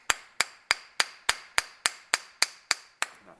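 A wood block repeatedly striking a chisel while fitting French doors: eleven sharp, evenly spaced knocks at a brisk, steady rhythm, close and clear, with no voices.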